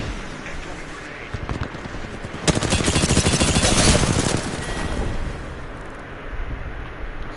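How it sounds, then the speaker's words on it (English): Fuse's knuckle cluster in the Apex Legends video game sets off a dense, rapid string of crackling explosions that burst in suddenly and rattle on for a few seconds before fading. "Fuse hit me with the knuckle cluster"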